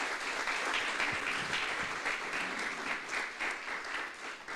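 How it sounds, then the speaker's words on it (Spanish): A church congregation claps loudly and continuously in a dense wash of applause, steady and fairly close, with faint voices mixed under the clapping. "Dale un fuerte aplauso al que vive por los siglos de los siglos."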